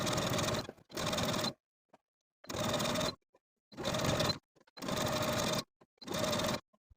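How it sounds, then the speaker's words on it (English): A sewing machine stitches a jersey facing to the seam allowance on a 1970s wrap dress, running in six short, even bursts separated by silent pauses. "we're going to sew the facing to the seam allowance about 1/8 of an inch away from the original stitching line"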